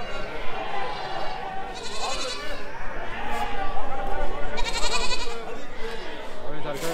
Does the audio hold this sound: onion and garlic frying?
no